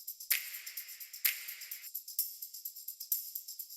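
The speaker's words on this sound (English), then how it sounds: "There's no progressive house without a tambourine." A tambourine in a progressive house track plays a crisp, bright, regular pattern of quick jingling shakes. Longer accented hits come every couple of beats, and the sound is clean and isolated with a touch of reverb.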